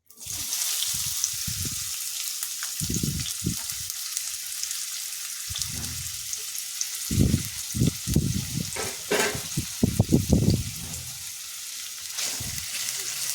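Chopped onions hit a hot pan for a chicken gravy, giving a steady broadband frying sizzle throughout, with bursts of stirring and scraping clatter in the middle and a louder run of stirring near the end.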